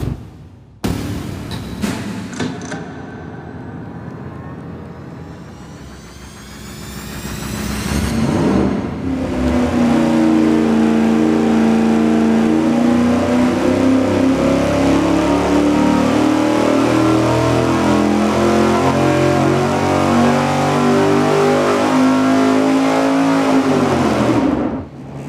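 A carbureted car engine on a dyno, being tested with carburetor spacers, fires up and idles briefly, then climbs into a long, loud, sustained full-throttle pull with a rising pitch before cutting off sharply near the end.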